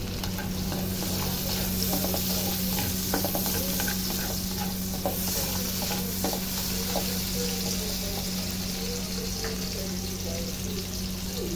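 Onion and garlic frying in a pan for mixed vegetables, a steady close sizzle with light stirring scrapes throughout and a low hum underneath.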